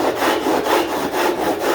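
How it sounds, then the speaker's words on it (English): A hand saw cuts a miter through cove cornice for an internal corner, its rapid, even back-and-forth strokes rasping close up with no talk. "Run the saw down, sorry, and cut our miter."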